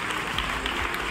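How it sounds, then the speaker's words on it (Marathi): Students in a college hall applaud their professors, a dense, steady burst of crowd clapping that fills the room without a pause. "प्राध्यापक यश भोसले आणि सिद्धेश्वर मोरे सरांसाठी जोरदार टाळ्या वाजवून त्यांचा"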